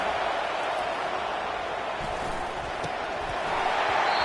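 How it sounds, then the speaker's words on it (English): Crowd noise fills a football stadium early in a rivalry game, a steady, dense roar of cheering that holds at even loudness throughout, with scattered louder shouts rising out of the wash. "Listen to the crowd energy here in the early going"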